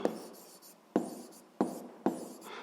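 Pen scratches across paper while physics working is written out, four quick bursts of writing separated by short pauses, close and fairly quiet with no voices.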